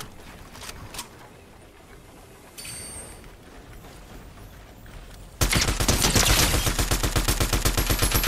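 Rapid gunfire from a Fortnite match, starting as scattered shots and then erupting into a loud, sustained burst of automatic fire in the final seconds.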